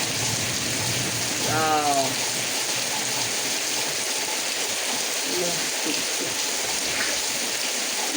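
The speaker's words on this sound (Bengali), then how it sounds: "বৃষ্টি হয়েছে গাইস" Rain falls steadily outdoors as an even, continuous hiss at moderate loudness, with a brief vocal sigh near the start.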